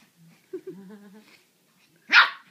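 A Goldendoodle gives soft whimpering whines, then one short, sharp bark close by, set against quiet surroundings.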